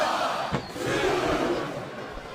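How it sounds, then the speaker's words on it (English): A large crowd roars and cheers continuously in the wrestling game WWE SmackDown vs Raw 2007, a broad, loud wash of voices with a sharp swell midway, heard from a distance. "I love hearing the crowd come alive"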